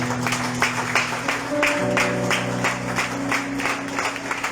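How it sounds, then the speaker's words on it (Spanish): A church congregation clapping for the Lord during worship, rhythmic rounds of claps over sustained musical tones from a keyboard, moderately loud and continuous with no clear speech. "Dale fuertes palmas al Señor"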